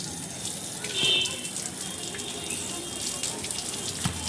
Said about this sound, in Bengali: একটু ধুয়ে নিই